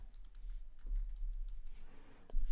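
Keys tapping on a computer keyboard as a name is typed, a quick irregular run of light clicks close by in a quiet room.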